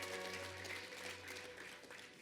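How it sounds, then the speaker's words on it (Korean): Audience applause welcoming a guest being introduced at a New Year labor-management-government gathering, a steady broadband patter of clapping sustained throughout without speech over it. "큰 박수로 환영해 주시기 바랍니다"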